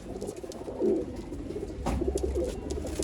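Dhoom breed pigeons coo softly at close range, with a couple of low rolling coos standing out over a faint, steady background hiss.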